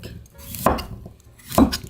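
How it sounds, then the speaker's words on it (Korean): A knife cutting radish on a board for Chungmu gimbap kimchi, two distinct close thunks about a second apart, each a short crisp chop with a faint clatter, separated by quiet. "이렇게 슬쩍슬쩍 이렇게 귀퉁이가 나게끔 이렇게 썰어주세요."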